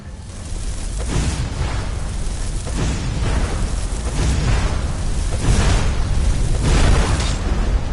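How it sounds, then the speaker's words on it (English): Rumbling explosions in the video game Skyrim boom continuously for several seconds, loud, with repeated bursts swelling and overlapping, and no talk over them. "What's up with these explosions?"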